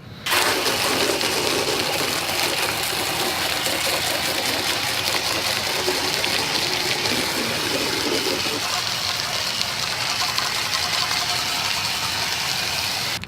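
An OxyClean car wash attachment on a garden hose sprays water in a steady, loud, close hiss that runs without a break for the whole stretch.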